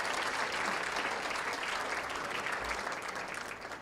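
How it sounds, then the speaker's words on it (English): A large crowd at a high school athletic hall of fame dinner claps in sustained, even applause throughout, easing slightly toward the end. "let's give yourselves a round of applause for that"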